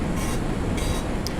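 Train running inside a video game control room, a steady low rumble and rattle of rolling rail cars, continuous and fairly loud with faint higher whines.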